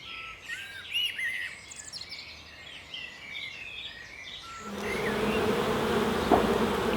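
Honey bees buzz steadily around an open hive during a UK beekeeping inspection, with bird chirps over the top; partway through, a louder, broader hiss of activity swells and carries on to the end.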